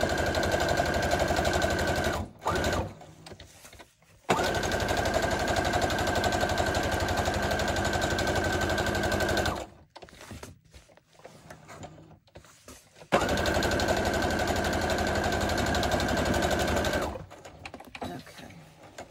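Sewing machine stitching a Halloween junk journal cover, running in three steady bursts of rapid, even stitching separated by short pauses, close and fairly loud with no talking.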